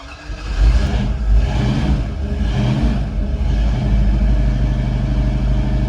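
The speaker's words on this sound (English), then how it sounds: "I'm still on the throttle, but it is also still cold, but there it is running." A cold truck engine runs and revs on held throttle, a loud, steady low rumble with rising surges of revving close by, no talk over it.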